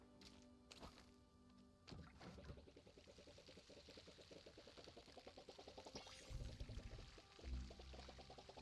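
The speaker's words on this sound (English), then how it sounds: "And we'll water these boys." Pouring, splashing water from a watering can over bean crops in the game Palia, a continuous trickle with rhythmic pulsing, with a few soft knocks at the start and later.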